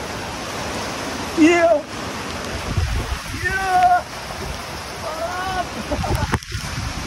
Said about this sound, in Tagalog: Lakas ng ulan, o.